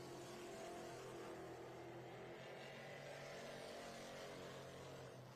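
Pro Late Model race cars circle the track at Cordele Motor Speedway during qualifying, a steady loud engine drone holding throughout with no clear rise or fade, heard from a distance.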